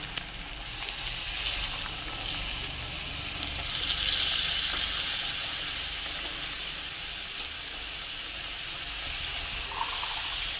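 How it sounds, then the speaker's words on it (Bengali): A cup of milk poured into potatoes frying in a pan for vegetarian potato korma, bringing a sudden loud hiss that settles into a steady, close sizzle lasting the whole stretch. "এবার এখানে 1 কাপ দুধ রেখেছি, এই দুধটা দিয়ে দেব"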